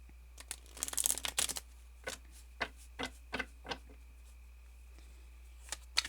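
Tarot cards are handled and shuffled, with a dense burst of riffling and crinkling near the start, then a series of separate soft taps and flicks as cards are laid down, close and quiet with no talking.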